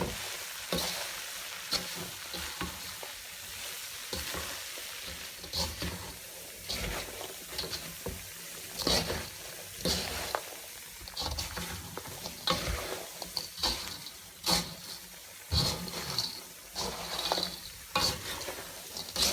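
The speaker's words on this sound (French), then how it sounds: "on remue, on remue. Et on va voir à un moment donné du caramel se reformer." Caramel-coated almonds are stirred in a pan while making chouchous, a steady scraping and gritty rattling of nuts against the pan with a soft sizzle, repeated in irregular strokes throughout, close and moderately loud, with no talking.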